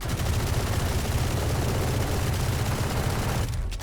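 An Odin machine gun in Valorant firing without its ultimate, a dense, rapid, continuous automatic burst, loud and close, that stops abruptly near the end.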